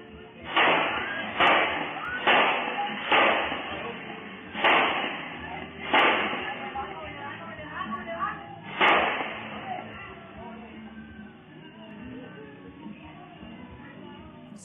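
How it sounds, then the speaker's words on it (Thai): Seven gunshots captured on CCTV at a bar shooting, sharp distant bangs in an irregular burst: several in quick succession, then a couple more spaced apart, over a muffled low background hum. "เสียงปืนครับเนี่ยเสียงปืนนะใส่ไป7นัดเลย"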